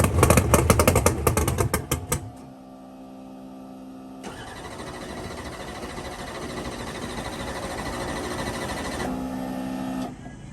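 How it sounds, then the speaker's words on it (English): A race car engine fired up: rapid cranking and catch, a brief lull, then the motor settles into a steady, rough idle with a rising surge near the end, loud and close. "We're gonna go ahead and fire this thing off."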